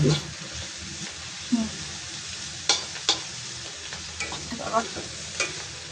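Eggplant frying in a pan, a steady close sizzle broken by sharp scrapes and clicks as the pieces are stirred and turned.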